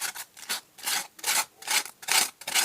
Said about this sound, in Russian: Обязательно шкурочкой проходимся.